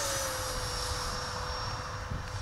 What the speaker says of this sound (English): Really good airplane.